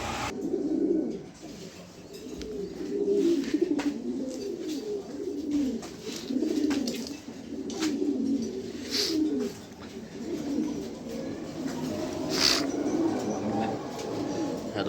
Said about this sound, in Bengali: এখানে এক পেয়ার কবুতর আছে মাক্সির ভিতরে